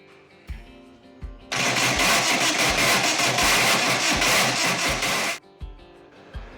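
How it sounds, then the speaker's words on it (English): A Van Diemen RF96K Formula Ford race engine cranks loudly on its starter for about four seconds without catching, with a few clicks before and after and no voices. "It kicked back on the starter motor like I had a little bit too much ignition timing, which is plausible"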